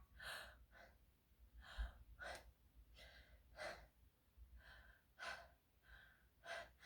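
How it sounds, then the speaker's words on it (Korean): Short, sharp inhalations repeat at a steady rhythm during a vocal breathing exercise, each breath quick and close but faint, with no talking over them. "이제 한 번에 숨 쉬는 거예요"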